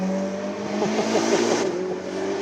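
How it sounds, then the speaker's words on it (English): Ferrari SF90 supercar braking hard on a race track, its engine note dropping through rapid downshifts with a loud continuous roar and tire noise, heard close and without talk. "Check out this braking of the Ferrari."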